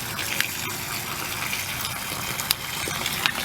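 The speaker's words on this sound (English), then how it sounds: "I'm going to turn the pump on" Steady gushing water pours from a short piece of hose fitted to an Orbit 92100 booster pump, a continuous broadband rush with faint clicks, the pump itself not clearly standing out above the flow.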